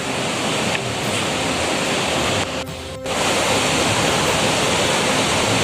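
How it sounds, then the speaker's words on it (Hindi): A mountain waterfall on the Kedarnath trek roars steadily between the hills, a dense continuous rush of falling water heard close and loud, with a brief dip in the middle but no voices. "झरना जलते हुए आ रहा है पहाड़ियों के बीचों बीच।"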